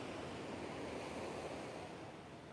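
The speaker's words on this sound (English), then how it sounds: "with large bodies of water, when waves crash like this" Ocean surf crashing steadily onto Pacific Beach, a loud, continuous wash of breaking waves with some wind rumble and no voices.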